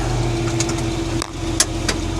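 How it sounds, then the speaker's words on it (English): A farm tractor used for raking alfalfa hay runs at a steady idle with a continuous low rumble and hum, close by, with a few brief clicks and knocks over it. "We'll start the tractor back up"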